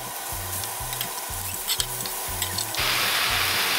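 Venison shanks searing in an Instant Pot make a steady close sizzle, with repeated low scraping strokes as the meat is turned, and the frying gets louder and brighter toward the end.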